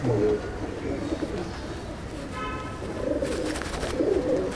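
Chennai breed pigeons coo inside a loft in Andul, Howrah: low, throaty repeated coos from several birds close by, with a steady murmur of background noise and occasional wing and shuffling sounds.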